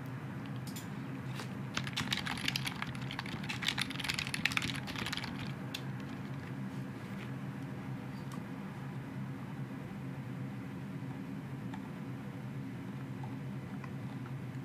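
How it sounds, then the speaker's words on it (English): Quiet, rapid keyboard typing clatters in a flurry over the first few seconds, then fades to scattered taps over a steady low hum. "I'm typing it to Alex only."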